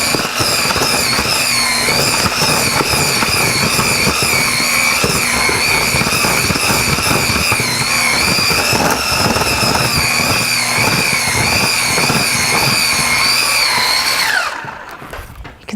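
An electric mixer whips cream at high speed for a Black Forest tower dessert, a loud, steady, high-pitched motor whine with a rattling whir that runs continuously for about fourteen seconds, then winds down and stops.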